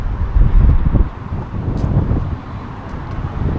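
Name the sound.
wind blowing outdoors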